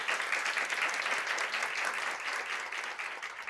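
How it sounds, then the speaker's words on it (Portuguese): Festival audience clapping for the teachers present at a literary talk, a dense, steady round of applause that carries on evenly from start to finish. "uma salva de palmas aí para os professores"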